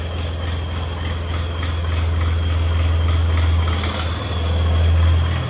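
A Swaraj tractor engine idles and runs nearby, a steady loud low rumble with a slight rise in intensity toward the end.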